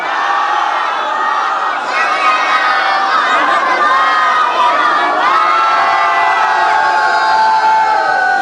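A large crowd chants salawat loudly in unison at a religious gathering, a dense sustained roar of many voices with rising and falling shouts throughout.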